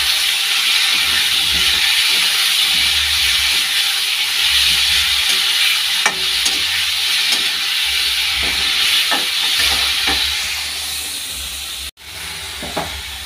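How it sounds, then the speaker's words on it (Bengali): Food sizzles and hisses in a hot pan with a loud, continuous frying sound, with occasional small clicks and knocks. "একটু ভেজে নিই।"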